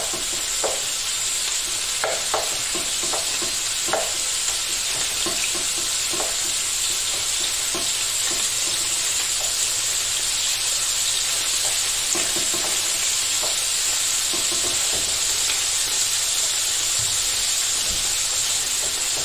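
Corn cobs fry in a pan over low heat, with a steady bright sizzle and scattered sharp pops and splatters throughout, with no voices.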